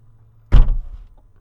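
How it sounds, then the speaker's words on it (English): A McLaren 600LT supercar door thuds shut once, a single solid close with a short low rumble trailing off, heard up close with no talking. "that's how you're gonna shut the door right up there"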